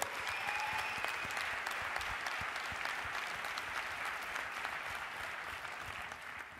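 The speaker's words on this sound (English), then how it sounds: "So can we get a gigantic round of applause," An audience at a sustainable development plenary session gives sustained, steady applause, a dense wash of clapping that continues evenly throughout.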